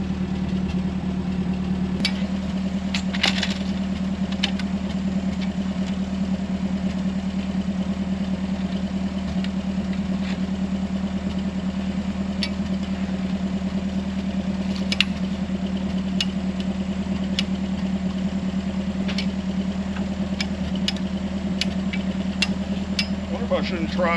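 A stuck Willys Jeep engine idles steadily in a mud hole, a low continuous drone with a few faint clicks and knocks on top.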